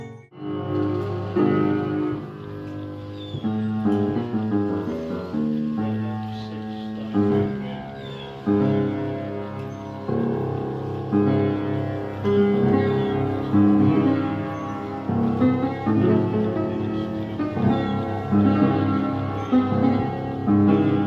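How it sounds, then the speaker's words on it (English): An antique music box plays a continuous tinkling melody in a house, with a self-playing piano also present, the tune sounding full and steady throughout with no talking over it. "music box. You can hear it playing in the background"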